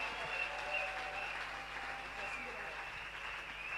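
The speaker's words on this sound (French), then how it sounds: "acclamons très fort pour la gloire de Jésus" Applause from a church congregation at a doctoral celebration service, a steady wash of clapping heard somewhat distant, with a faint voice audible underneath.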